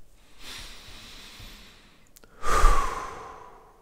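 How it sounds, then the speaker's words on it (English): One person takes a slow, deep breath: a soft inhale early on, then a loud, close, breathy rush of air that fades out. "One way to reset your state, to reframe things, is just stop and take a big breath in."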